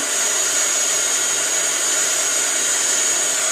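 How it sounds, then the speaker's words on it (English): An embossing heat gun blows steadily while drying a handmade paper flower, a constant close-up hissing whoosh with no breaks from start to finish. "I'm going to take my tweezers and my embossing gun, and I'm drying it off, drying it some"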